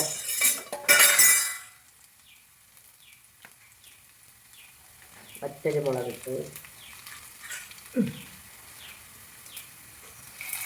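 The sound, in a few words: frying onion and dried red chili in a pan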